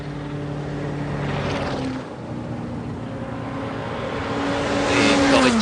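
Race cars at Le Mans in 1996, including a Porsche and a Callaway Corvette, roar past as a loud, continuous engine drone with a rising whine near the end and no voices.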